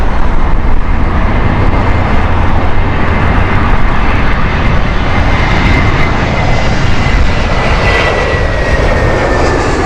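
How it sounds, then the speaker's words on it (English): A British Airways Airbus A320 bound for Pisa roars steadily and loudly close by, its jet engines giving a continuous rumbling wash with a thin whine rising through it, alone without voices. "the Pisa flight with British Airways on their Airbus"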